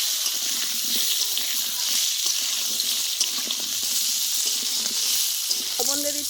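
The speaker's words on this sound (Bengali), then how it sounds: "ভালো করে আলুটা কষিয়ে নিচ্ছি।" Potatoes fry and get stirred in a pan, a continuous close sizzle with scraping stirring strokes and light clatter, a brief knock near the end.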